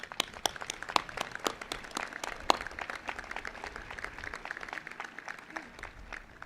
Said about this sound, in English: Please join me in applauding our professional staff.